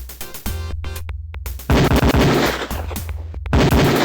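A Beretta pistol fires on a police shooting range in the 1993 retro game Police Quest: Open Season, several sharp loud shots cracking out close, with quiet gaps and rapid follow-ups between them.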